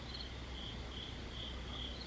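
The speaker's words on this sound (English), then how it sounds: "when I film at night, people always comment on the cicada sounds and stuff like that" Cicadas shrill steadily outdoors at night, a continuous high buzzing chorus at moderate distance with no talk.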